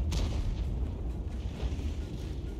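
A heavy, booming artillery cannon blast in a World of Tanks game opens the clip, followed by a rumbling low roar that lingers and slowly fades.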